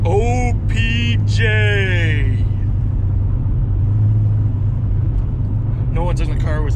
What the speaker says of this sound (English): Plus I have to because my car's loud.